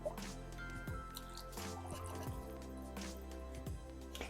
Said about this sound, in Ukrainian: Вливаю олію